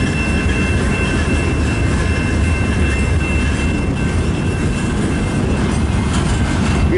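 A CN mixed freight train, the M396 eastbound, rolls steadily past in a loud, continuous rumble of rail cars with faint rhythmic wheel clatter throughout.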